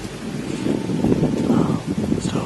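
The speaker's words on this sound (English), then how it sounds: "It's windy, cool this morning." Wind blowing across an open outdoor hunting spot on a cool autumn morning, a steady low rushing and buffeting against the microphone that swells slightly through the short stretch.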